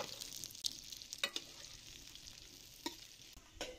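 Okra and green chillies fry in hot ghee, a steady close sizzle with a few sharp stirring clicks and scrapes from a spoon, heard alone without voices.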